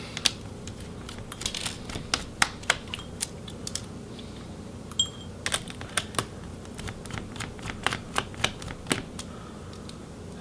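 The battery of an MSI GS65 Stealth thin laptop being removed, with scattered small plastic and metal clicks and taps, irregular and close, some briefly sharper, over a quiet background with no talk.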